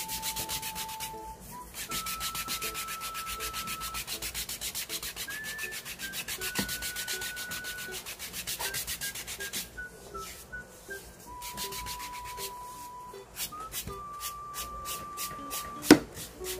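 Foot calluses are filed during a pedicure with a coarse file and then a softer one, giving repeated rhythmic rasping strokes up close, punctuated by faint high tones and a sharp knock near the end.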